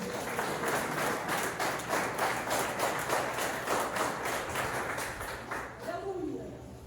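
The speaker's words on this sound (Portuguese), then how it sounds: "Quem pode aplaudir a Jesus?" A church congregation applauds during a Portuguese-language healing and deliverance service, clapping loudly and rhythmically together in a fairly even beat that thins out and fades at the very end.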